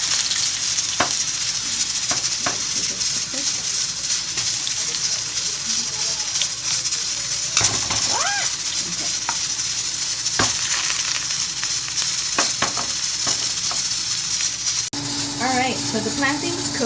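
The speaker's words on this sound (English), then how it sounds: "so now we're gonna fry the plantain" Plantain slices fry in hot oil with a loud, steady sizzle throughout, punctuated by occasional utensil clinks and stirring, with a voice briefly heard over the cooking.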